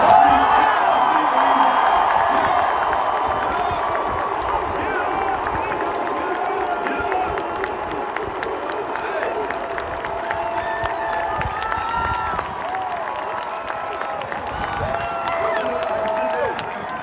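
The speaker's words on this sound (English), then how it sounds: "I need you to give them a standing ovation" A large stadium crowd at the 2022 Georgia Bulldogs national championship celebration roars and applauds in a sustained ovation. The loud, dense cheering and clapping continue without a break, with distant whoops rising from the mass of noise.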